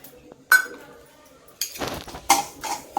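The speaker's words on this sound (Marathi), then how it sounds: "आता खसखस भाजून घेऊ।" Poppy seeds being dry-roasted in a hot kadhai, heard as sharp metallic clinks and scrapes of a spoon against the pan in short bursts separated by quiet gaps.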